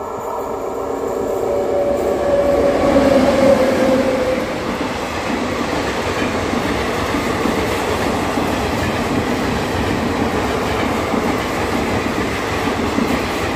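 The Jaipur–Mysuru superfast express rumbles steadily through Penukonda railway station without stopping, continuous rolling clatter of wheels on rails, loud and close, with a brief squeal early on and no voices.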